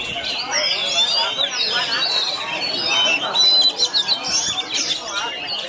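Oriental Magpie-Robins sing in a bird song contest in Tan Van, with bright, rapid whistled phrases and chirps that run continuously over busy crowd chatter and background noise.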